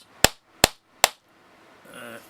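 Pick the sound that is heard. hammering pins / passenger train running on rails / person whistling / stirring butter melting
hammering pins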